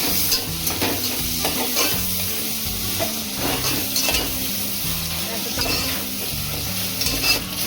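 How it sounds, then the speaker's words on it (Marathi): Tomato is stirred into masala frying in a pan for mutton curry, a loud steady sizzle broken by repeated scraping strokes of a spoon against the pan, close up with no voices. "टॅमॅटो चांगला मिक्स करून घेऊया."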